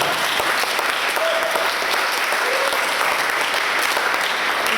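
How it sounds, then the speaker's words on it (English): Audience applause at a community meeting and political dialogue, a steady, even roar of many hands clapping throughout with no speech over it. "Please give them a round of applause."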